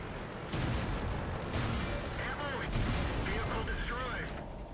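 An A13 cruiser tank's pom-pom autocannon in World of Tanks, firing in quick repeated bursts amid battle noise, with someone talking over the shooting throughout.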